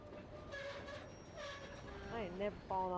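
A train in a roleplay video game rolls along with a steady rumble and some whining, rising tones near the end, while players chat over it.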